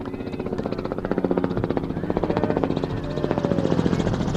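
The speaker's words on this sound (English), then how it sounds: "Our helicopter flying over, getting a good view." A helicopter passes over a girls' varsity soccer championship field, its rotor thumping in a fast, steady pulse that swells and stays loud throughout.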